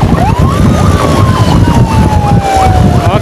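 An ambulance siren wails loudly and close by inside a vehicle rushing an urgent patient through traffic, with a long sweeping tone over a rumbling engine.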